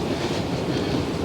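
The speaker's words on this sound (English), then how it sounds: "This side is the train that takes us to the airport." A train to Vancouver airport passes with a steady, dense rumble and rattle of wheels on track, heard up close and continuously over the short moment.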